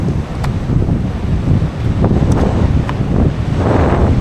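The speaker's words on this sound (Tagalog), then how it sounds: "Malakas yung hangin." Strong wind roars and buffets the microphone continuously while fishing, with rushing gusts and faint surf-like noise underneath, no voices.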